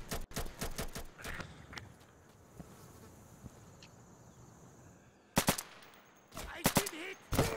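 Sharp gunshots in the tactical shooter Insurgency, several quick cracks at the start and clustered bursts near the end, separated by a quiet stretch of low background noise.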